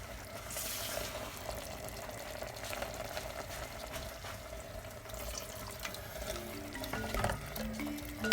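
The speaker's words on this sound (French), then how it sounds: "je vais ajouter un petit peu d'eau pour être juste à niveau de mes oignons" Water poured from a container into a pan of onions with thyme and bay leaf, a quiet, steady trickle and splash under low kitchen background noise.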